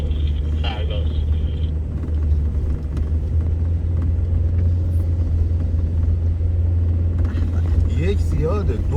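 A car held in first gear on a snowy mountain road, the engine a loud, steady low rumble throughout, heard from inside the cabin with someone talking over it.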